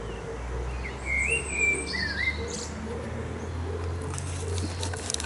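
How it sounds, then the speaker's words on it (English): A blackbird sings from a tree in the British countryside, its clear warbling phrases rising at moderate distance over a low steady background rumble and faint patter, with no talking. "The wonderful song of the blackbird."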